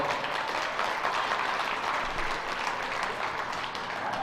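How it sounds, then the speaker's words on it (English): A crowd at a youth fair livestock show claps for the heifer exhibitors, a sustained, even roar of many hands that stays fairly soft and constant throughout. "let's give our heifer exhibitors a big round of applause."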